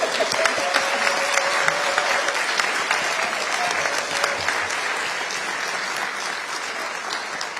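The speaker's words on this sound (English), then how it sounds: "Okay, now you can applaud." An audience at a mayoral candidates' debate in Oakland applauds steadily, with dense, even clapping that holds at moderate volume throughout.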